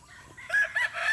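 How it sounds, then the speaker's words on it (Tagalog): Rooster crows close by among chickens in a Bicol backyard flock, a short loud call with clucking fowl around it. "Yung mga manok natin dito."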